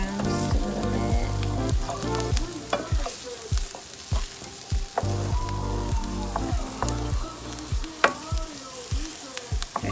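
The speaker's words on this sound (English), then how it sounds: "because those onions sauteing down smell so good" Onions sautéing in a pan, with a continuous sizzle broken by repeated scraping stirs from a utensil, close and clear.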